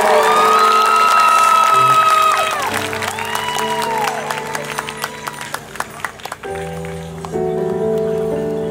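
Cheering crowd at the Adju music festival, a broad roar of shouts and whoops over sustained tones, continuing with scattered claps and clicks, then settling into steadier tones and softer crowd noise.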